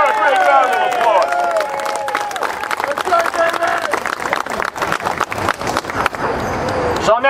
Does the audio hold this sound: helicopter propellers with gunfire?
no